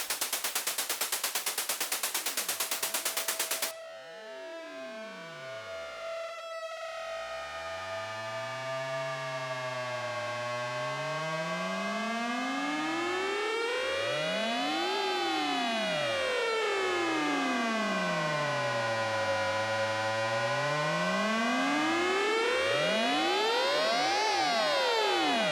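Noise patch on a Behringer Pro 1 analog synthesizer: a burst of white noise gives way to a loud, sustained siren-like tone with sweeping, swooping pitch glides that rise and fall repeatedly, alone and with no talking.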